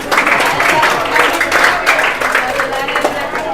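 A class of students claps together in a steady, lively burst of many hands, with voices mixed in over the clapping throughout.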